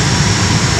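Airplane jet engine at an airport, a loud, steady broadband roar heard close and continuous for a brief moment.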